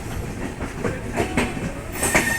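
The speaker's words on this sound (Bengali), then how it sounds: "আমাদের ট্রেন এখন পাটনা জংশনে ঢুকছে।" A train rolls into Patna Junction with rhythmic clickety-clack of wheels over rail joints and a few faint squeals, steady and close.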